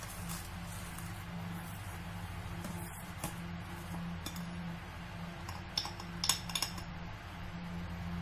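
Spoon clinking faintly in a bowl as ground nuts are mixed with sugar and cinnamon, scattered light taps and scrapes over a quiet room hum.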